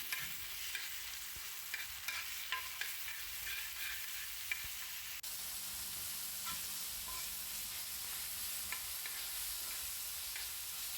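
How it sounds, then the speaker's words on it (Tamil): Ginger garlic paste sautéing in a pan on a dosa griddle for a fish roast, a soft steady sizzle with light scraping stirs, quiet and close, no talking. "கொஞ்சமாக இஞ்சி பூண்டு பேஸ்ட்டு சேர்த்து இதையும் வதக்கிக்கோங்க"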